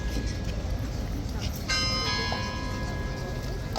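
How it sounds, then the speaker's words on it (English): A bell rings once at Horse Guards in London, a clear metallic strike with a lingering ring over busy outdoor crowd noise and chatter nearby. "there's the bell."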